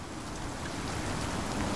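Rain falling in the survival video game Icarus, a steady even hiss of downpour on surfaces, constant and moderately loud with no breaks or talk.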